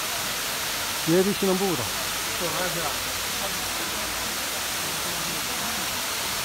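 A waterfall near a jade-colored lake below Jade Dragon Snow Mountain gives a constant hissing rush of water, with someone talking briefly over it near the start.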